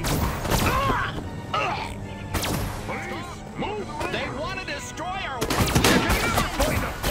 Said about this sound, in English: Nice shooting, Crypto!